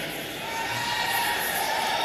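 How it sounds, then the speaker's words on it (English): A large crowd cheers with a steady, broad roar in a big hall at the OnePlus 7 launch event in Bengaluru, sustained and fairly loud throughout. "What a huge crowd we have here."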